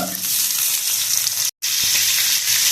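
Chicken pieces fry in a couple of spoons of hot oil on a low flame, a dense, steady sizzle heard up close that cuts out for a moment and then resumes at full strength.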